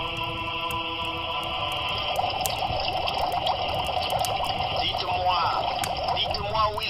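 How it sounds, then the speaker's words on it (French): Water bubbles and gurgles steadily in a hole, a continuous close, watery wash under a voice that keeps speaking throughout. "dans le trou, l'eau commence à bouillonner"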